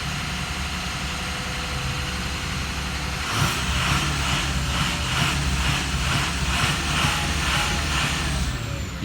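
A truck engine with a fault runs at a steady idle and then takes a little throttle, and the low rumble thickens into a pulsing, uneven note that holds for several seconds.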